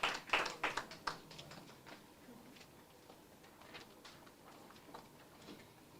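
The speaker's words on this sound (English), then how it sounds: "Certainly another round of applause for those key findings" An audience applauds after a presentation of drug information findings, a brief burst of claps at the start that quickly thins into scattered, faint taps and dies away.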